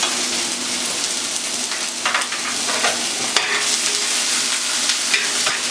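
Onions and preserved radish fry in a pan, giving a steady, loud sizzle throughout with light stirring scrapes layered on top and no talking.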